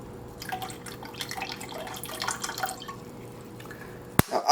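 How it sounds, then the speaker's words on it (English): Light soy sauce trickling into about a cup and a half of water for cooking eggs, a thin steady dripping and splashing close by with a small clatter at the end, no talking. "Then we're going to add 2 tablespoons of soy sauce."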